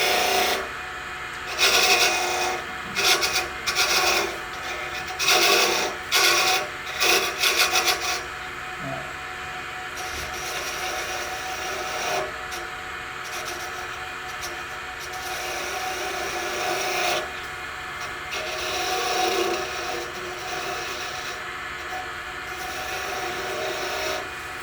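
A skew chisel scrapes and shears a spinning wooden top on a lathe, producing a steady rasping, rubbing drone with several short bursts of harsher cutting early on, close and continuous.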